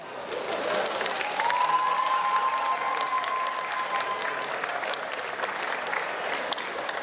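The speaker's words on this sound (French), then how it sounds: "On l'applaudit encore bien fort" Sustained applause from a crowd at a manga festival contest, steady and full throughout, with a thin whistle-like tone rising briefly in the middle.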